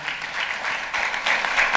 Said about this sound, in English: one last round of applause for all of our panelists, our speakers that shared.